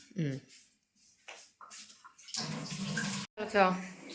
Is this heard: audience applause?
no